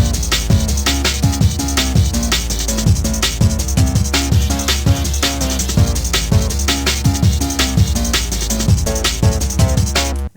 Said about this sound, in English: C64 circuit bent bass.